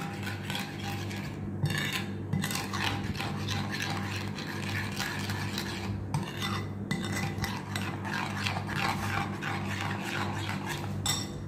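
Curd and gram flour being stirred together for mango kadhi, a steady wet scraping and swishing of a spoon around a bowl that continues throughout without pause.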